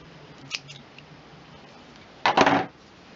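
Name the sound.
scissors cutting craft ribbon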